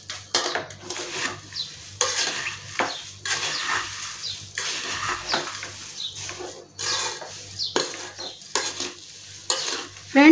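Finely ground sugar being stirred into a crunchy poha and puffed-rice namkeen (chivda) in a pan, with repeated bursts of scraping, rustling stirs and light clinks of the spoon against metal at close range.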